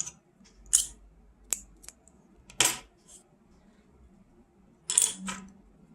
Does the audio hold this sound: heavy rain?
no